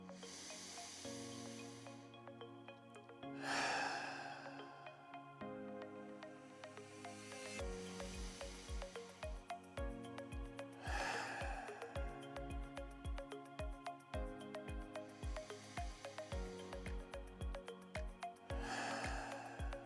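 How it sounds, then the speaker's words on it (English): Deep, forceful breaths in and out during a morning breathing exercise, several loud whooshing inhales and exhales close by, set against steady background music with a rhythmic beat. "the breath in will make a little bit of noise, and certainly the breath out is going to make a good amount of noise"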